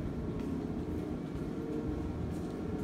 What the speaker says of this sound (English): Now comes the freight elevator